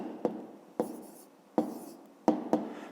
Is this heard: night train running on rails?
no